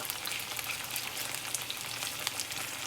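Chicken for a cashew stir fry cooks over medium heat in a cast iron skillet, putting out a continuous, even hiss of frying oil with small crackles and no pauses, heard close and steady without talk.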